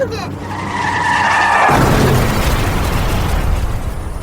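Car tires screech in a loud skid that builds for about a second and a half, then give way to a broad, sustained crash-like roar and rumble that fills the rest of the stretch. No one speaks.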